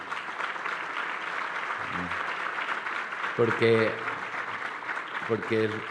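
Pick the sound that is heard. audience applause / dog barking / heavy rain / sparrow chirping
audience applause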